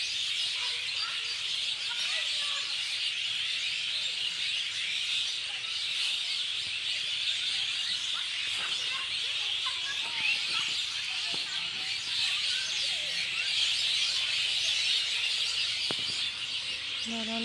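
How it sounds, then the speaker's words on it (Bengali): Many birds chatter together beside a bamboo grove, a dense, steady wash of chirps and twitters that fills the whole stretch at an even level, with no voices and no single call standing out. "অনেক পাখির কোলাহল শব্দ।"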